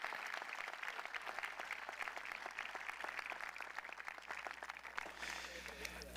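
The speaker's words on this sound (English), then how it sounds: "How about a final round of applause for all of our student speakers?" Applause for student speakers at the North Muskegon Public Schools 2022 graduation: a sustained, evenly dense round of clapping from a large crowd, heard from some distance with a faint low hum underneath.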